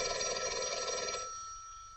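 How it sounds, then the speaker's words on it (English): An old telephone bell rings loudly in a 1950s film scene, a bright sustained metallic trill that stops about halfway through and leaves a faint fading tail over a quiet room. "Your phone's ringing."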